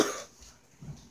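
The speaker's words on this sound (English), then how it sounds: "I'm sorry, I just have a little cough." A single short cough from a person, close and fairly soft, followed by a faint low throat sound, with no talking.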